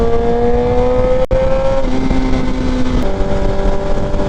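A Suzuki Hayabusa motorcycle with full bolt-ons, its engine droning loud and close at steady speed while riding in traffic, the pitch stepping between gear-like levels with a brief dropout, and no speech.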